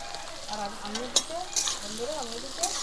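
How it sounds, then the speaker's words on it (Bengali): Onions fry in hot oil in a karahi wok, turning crisp for a chicken kala bhuna, with a steady sizzle, brief spatula clatters, and faint voices in the background. "কড়াই গরম হয়ে গেছে কিছুটা পেঁয়াজ আমি দিয়ে দেবো দিয়ে ব্রেস্তা বানিয়ে ভেজে নেব"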